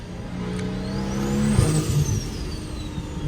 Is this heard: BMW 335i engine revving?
yes